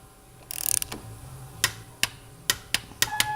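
A torque wrench ratchets a bolt toward 20 foot-pounds on a floating belt deflection install, starting with a quick burst of clicks, then single sharp ratchet clicks spaced out close up.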